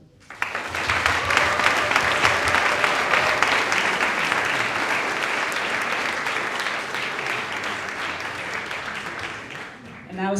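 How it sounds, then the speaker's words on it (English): Sustained audience applause at a public pitch event at EU TalentOn Leiden 2022: dense, steady clapping from a large crowd that starts abruptly and continues loud throughout, easing slightly near the end. "A big round of applause and to all of you"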